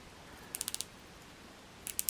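The rotating bezel of a Hruodland Aquatimer dive watch gives off crisp, faint ratchet clicks: a quick run of five evenly spaced ticks, a pause, then a few more near the end, with no talk.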